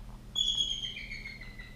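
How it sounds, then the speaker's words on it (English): Bald eagles calling while flying overhead, a thin, high, faint whistling chatter of a few quick descending notes heard from a distance outdoors. "These two bald eagles are flying around and talking to each other up there"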